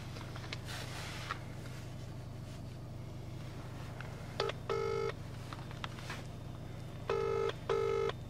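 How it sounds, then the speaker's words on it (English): A phone line ringing out, with two pairs of electronic rings sounding alone over a low steady hum and faint background noise. "Stop ringing his line."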